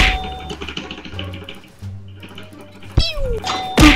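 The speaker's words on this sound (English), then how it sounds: "That bell." A bell chimes in a League of Legends match, a bright ding-dong tone cutting through clashing spell and combat effects, brief and fairly loud, with no talking.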